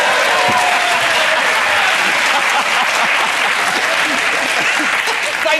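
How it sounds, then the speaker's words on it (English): Studio audience at a British comedy panel show on election news, clapping in loud, sustained applause, a dense steady roar of many hands that holds evenly from start to finish. "This audience will applaud anything."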